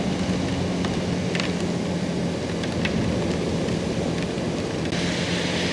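Steady, dense rain pours throughout a night motorcycle ride, a continuous close hiss with faint rumbling underneath and no voices.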